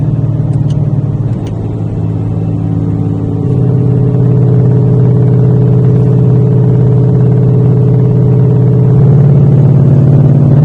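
A 2020 GT500's exhaust in track mode drones steadily and loudly close by, the engine note dipping briefly and then climbing into a firmer, sustained rumble.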